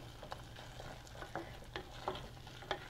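A thick date and nut pinwheel cookie filling cooks down into a paste in a pan, with a faint steady sizzle and soft scraping stirs landing every half second or so, and no voices.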